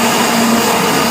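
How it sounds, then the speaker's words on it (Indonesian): A blender whirs loudly and steadily, grinding a mosquito repellent lotion mixture into a smooth paste, with a constant motor drone throughout and no voices. "Kita blender sampai dia menjadi adonan yang halus, tidak ada kasar-kasarnya lagi"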